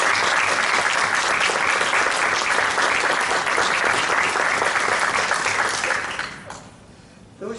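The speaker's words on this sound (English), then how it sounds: "I think we need to applaud." Sustained audience applause honouring a woman remembered for her work, dense steady clapping from many hands that holds strong, then thins and fades near the end.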